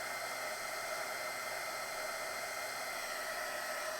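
A heat tool blows a steady, close, loud hiss of hot air while melting embossing powder on a heat-resistant handicraft mat, continuous and unbroken, with no talking.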